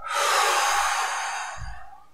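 One long, loud breath out, close to the mic, slowly fading during a breathing exercise, with a faint low rustle near the end and no speech.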